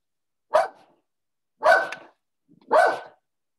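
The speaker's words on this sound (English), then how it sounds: "The dog agrees." A dog barks three times, each bark loud and close, spaced about a second apart with quiet between them, over a meeting's pause in conversation.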